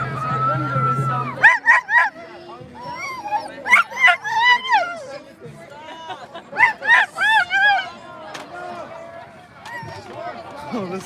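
A dog barks, yips and whimpers in quick irregular bursts at an outdoor old-growth forest rally, close and loud, with people talking in between.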